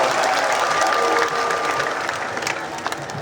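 Loud clapping from a large crowd at an outdoor Shiv Mahapuran katha gathering, a dense burst of applause with a little cheering that tapers gradually over a few seconds.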